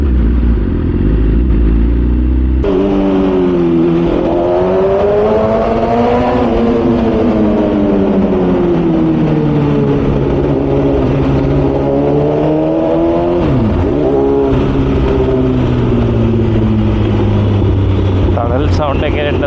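A vehicle with a loud aftermarket exhaust revving nearby, engine pitch climbing and falling in long waves over a rough, throaty drone that carries on steadily.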